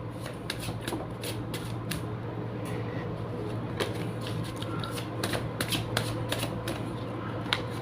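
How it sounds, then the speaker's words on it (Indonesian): Tarot cards being shuffled up close, a rapid run of crisp riffling snaps and clicks over a steady low background hum. "Langsung saja saya shuffle kartunya."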